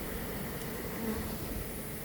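Steady, dense buzzing of many honey bees close by, a continuous drone with no voices.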